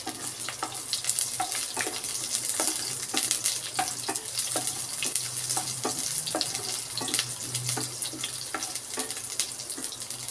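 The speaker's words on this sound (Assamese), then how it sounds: "পিঁয়াজখিনি মই 1 মিনিটমান সময় এইদৰে ভাজি ল'ম।" Chopped onions fry in a pan while being stirred, a steady sizzle with regular scraping strokes of a spoon, moderately close, with no voices.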